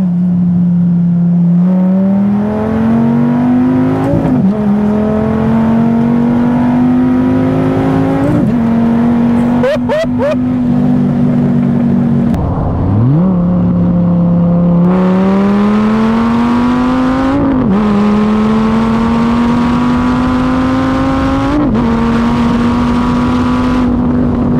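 Dodge Viper GTS engine pulls hard under acceleration, its loud rising growl climbing through the gears with brief dips at each shift, close and steady for the whole stretch.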